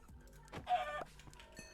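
A chicken in Minecraft Bedrock gives a short, soft cluck, one quick burst of clucking in a quiet scene, faint and close.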